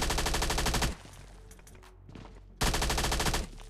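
Automatic M16 rifle fire in the mobile shooter PUBG Mobile Lite, two loud bursts of rapid shots separated by a quieter stretch of game ambience.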